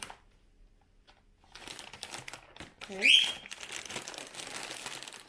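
A bag of Vicente Vidal teriyaki-flavoured ridged crisps, 120 g, being torn open, with loud crinkling and rustling of the packaging that swells to a sharp tear in the middle, while a person talks throughout.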